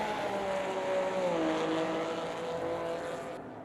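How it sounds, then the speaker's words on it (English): Porsche and Corvette GT race cars roar past on a track during a classic GT race, a loud sustained engine drone with a rising and falling pitch as they pass close by. "And then here comes some Porsches of Joshua Hill."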